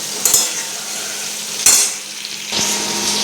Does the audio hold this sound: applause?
no